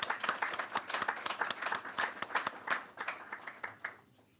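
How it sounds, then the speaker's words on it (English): A conference audience at the Mbali Conference bursts into a round of applause: dense, steady clapping from many hands that holds for several seconds, then thins and fades toward the end, with no voices on top. "give this man, Kaketsu, a round of applause of being our Mbali ambassador"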